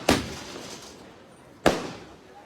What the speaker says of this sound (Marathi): फटाक्यांची आतिषबाजी जी आहे ती करण्यात आलेली आहे.